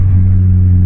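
A 200 kW Honda Civic FN2 Type R with a VTEC engine holds a loud, steady, deep engine drone at close range for under a second, with no talking.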